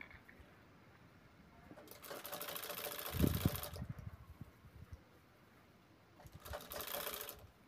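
A sewing machine stitches piping onto a ladies' purse in two bursts of fast, even mechanical chatter, with quieter pauses between them and no speech.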